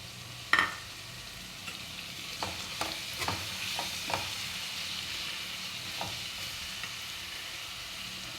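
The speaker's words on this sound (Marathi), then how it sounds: "आता यामध्ये मी भिजत घातलेली जी मूग डाळ होती" Soaked moong dal goes into a pan with chilli powder and turmeric, giving a low, steady sizzle under a few scraping stirs and one sharper clink early on, with no voices.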